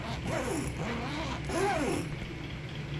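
A zipper on an AC Infinity grow tent is pulled in a few steady sweeping strokes, close and moderately quiet, each pass a rasping whir with no talking.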